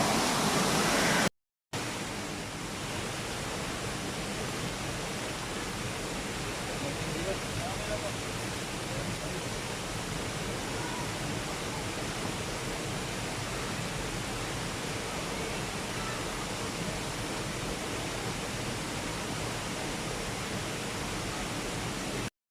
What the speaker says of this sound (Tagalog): So running water.